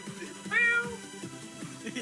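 A person imitates a cat's meow, one short rising-and-falling mew voiced over ongoing talk in a casual online chat.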